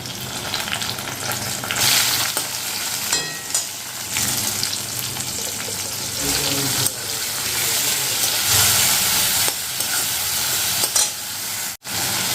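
Eggplant frying in hot oil in a home kitchen for a Bengali dish, a steady close sizzle and crackle running throughout, with occasional stirring scrapes and a brief dip near the end; no one speaks.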